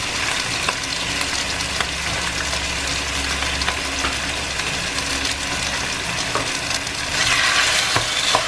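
Pork pieces hit a hot pan for adobo and sizzle steadily with a dense, crackling hiss that swells a little louder toward the end. There is no talk.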